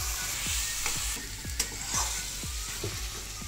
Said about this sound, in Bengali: সব কিছু ভালো করে মিশিয়ে নেব